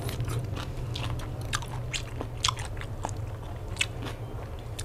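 Close, crisp crunching bites as someone chews crunchy lotus stems in a spicy fresh shrimp salad, a steady run of wet crackling chews with occasional louder crunches.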